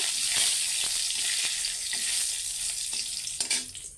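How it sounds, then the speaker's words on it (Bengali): Nigella seeds, panch phoron and bay leaf sizzle in hot oil in a pan, a loud, steady, close frying hiss with scattered crackles throughout. "তো এই তেল গরম হয়ে গেছে তেলেতে দিয়েলাম আর দুগা কালা জিরা দিয়েলাম পাঁচফোড়ন আর ইয়া তেজপাতা"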